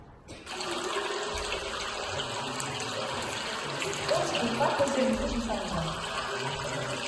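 Running water, played back for a listening exercise, starts abruptly and flows in a steady, fairly loud gush like a tap filling a sink, with a few splashy swells midway. A quiet room murmur sits underneath.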